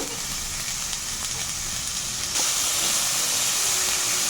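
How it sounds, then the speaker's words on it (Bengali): Vegetables, including finely cut beans, fry in a pan with a steady close hiss and sizzle that grows slightly louder partway through. "সবজিগুলো আমি ভালো করে একটু ভেজে নেব"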